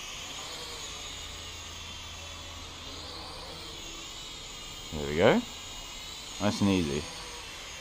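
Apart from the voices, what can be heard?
Syma X5C quadcopter drone flying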